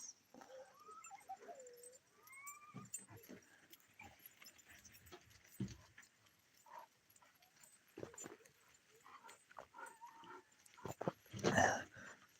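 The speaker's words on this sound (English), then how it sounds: "I brought the puppies out so they'll quiet down." Puppies yip, whimper and bark in scattered bursts at close range, with keys jangling and a louder cluster of barks near the end.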